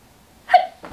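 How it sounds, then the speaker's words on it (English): A single sharp sneeze bursts out close up, followed by a quick breathy intake, with near silence before it. "Gonna sneeze."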